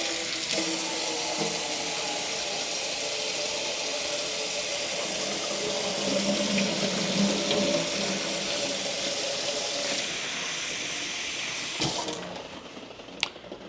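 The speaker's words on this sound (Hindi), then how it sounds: "इसमें पानी दोबारा चेंज कर रहा हूँ मैं।" Tap water runs steadily into a kitchen sink to change the soaking water for carrots and peas, a continuous splashing rush that swells midway and cuts off near the end, followed by a small clink.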